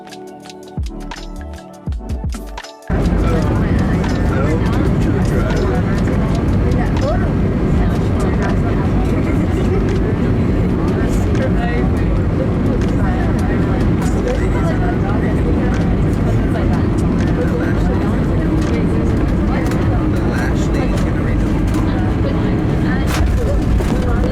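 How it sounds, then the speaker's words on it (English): An Allegiant Airlines airliner lands at Houston Hobby, heard from inside the cabin as a loud, continuous roar of engines and rushing air. The roar rises abruptly after a few seconds and then holds steady, rumbling throughout. "let's watch our landing at Houston Hobby."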